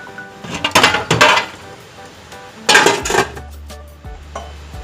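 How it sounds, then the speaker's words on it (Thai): Metal clinks and clatters as a lid is lifted off a steamer pot, two loud bursts of clanking about two seconds apart, followed by a lower hum and a light tap. "เราจะเปิดฝาให้เร็วนะคะ"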